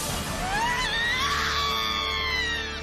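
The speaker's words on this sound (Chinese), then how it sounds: "就在此时我听到了远处的惨叫声" A distant scream echoes through a foggy village in the Werewolf Village video game, a long, rising and falling anguished cry over a low ambient drone, with no voices.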